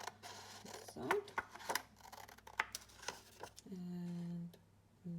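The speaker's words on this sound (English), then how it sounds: "I'm going to cut a little bit off this side" Scissors snipping paper while making a paper cutout Christmas card: a series of close, crisp cuts and rustles, with a steady tone near the end.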